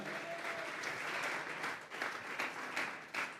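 A church congregation breaks into sustained applause, many hands clapping in a thick, lively roar with a few sharper claps poking through, moderately distant and filling the sanctuary.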